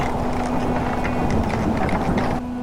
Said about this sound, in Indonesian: Angin pun seolah mengamuk dan memporak-porandakan segala yang ada di sana.